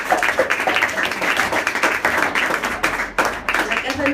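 Audience applause for Casa Nicaragua during a talk in Liège, a dense, steady patter of many hands clapping at close range for several seconds.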